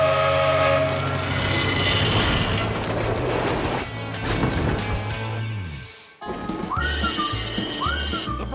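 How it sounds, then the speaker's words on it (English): A cartoon steam train rumbles and hisses under music, then a loud steam whistle blows twice near the end. "Here comes the train."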